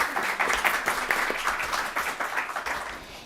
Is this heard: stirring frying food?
no